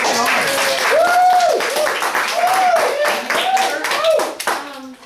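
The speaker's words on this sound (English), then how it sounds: "applause to our speaker, Megan" An audience applauds a speaker named Megan, with steady dense clapping throughout and a few voices and tonal cheers rising over it before it tapers at the end.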